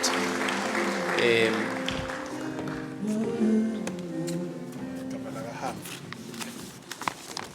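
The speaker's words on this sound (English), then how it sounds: "if we can just clap hands for him today, only today, as he comes forward" Council members clap in a chamber during a municipal meeting, a moderate burst of applause that fades over several seconds with a few scattered claps near the end.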